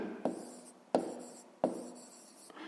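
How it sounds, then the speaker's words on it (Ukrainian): A pen writes a fraction by hand on paper during a math lesson, three scratchy strokes starting sharply and trailing off in a quiet room. "То пишемо дріб, записуємо А"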